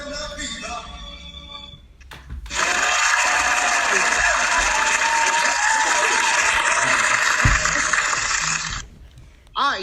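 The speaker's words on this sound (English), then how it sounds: "That was clapping?" A crowd of people clapping over a Zoom call breaks into dense, steady applause that holds for about six seconds and then stops abruptly, with faint voices before it starts.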